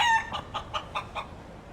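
A chicken-crowing phone alarm goes off in Yakuza 5: an opening crow followed by five evenly spaced clucks, close and clear, with no voices.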